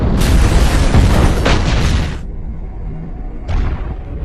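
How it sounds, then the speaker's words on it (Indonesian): A trap explodes and sets a factory on fire: a loud, broad booming blast with roaring rumble for about two seconds, a quieter lull, then another burst of fiery roar. "akhirnya jebakan yang dipasang broker pun meledak dan membakar seisi pabrik"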